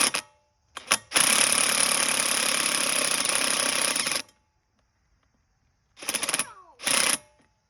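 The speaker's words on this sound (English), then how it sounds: "I'm just gonna drill these rivets out." A power drill bores out the rivets holding the exhaust on a pit bike, a sustained buzzing whine of about three seconds followed by two short bursts, loud and close.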